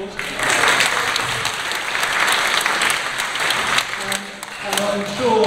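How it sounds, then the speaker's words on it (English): Audience applause at a fracking talk in the Milton Rooms, Malton, North Yorkshire, a steady room-filling clapping that holds for several seconds and thins slightly near the end. "So give yourselves a huge round of applause."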